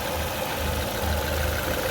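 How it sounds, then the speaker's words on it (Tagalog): A 2019 Suzuki Ertiga engine idles steadily to warm up before an engine wash, a continuous low rumble with a faint mechanical tick, heard up close with no talking. "pinandar ko muna saglit yung makina para mag-init lang ng konti"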